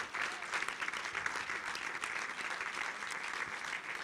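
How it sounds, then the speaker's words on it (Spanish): Steady audience applause fills a hall at a Spanish-Basque spoken-cinema event featuring a film director, dense and even throughout with no single claps standing out. "os pido un fuerte aplauso para Esti"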